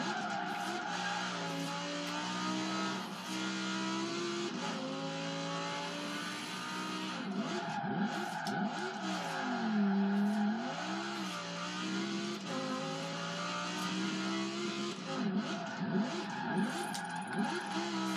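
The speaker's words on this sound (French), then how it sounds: "On va faire un peu de drift avec." Continuous engine roar with rising and falling revs and tire squeal as a car drifts in a racing video game, steady and loud throughout with no speech.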